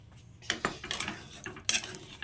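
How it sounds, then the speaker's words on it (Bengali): A metal lid lifted off a cooking pot of semolina, a cluster of sharp clanks and rattles of metal on metal, close and fairly loud, with a final clatter at the end. "5 মিনিট পর ঢাকনাটা খুলে দিচ্ছি।"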